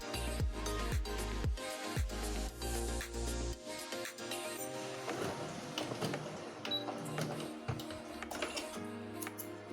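A sewing machine runs a zigzag stitch over elastic on small doll panties, its needle thumping in quick rhythmic bursts that stop and restart, close and clear with no talking.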